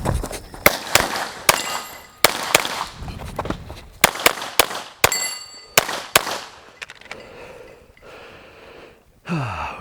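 Shots from a Glock 17 pistol on a shooting run crack out as sharp, loud, separate reports at an uneven pace, some in quick pairs, with metallic ringing and brief pauses between them.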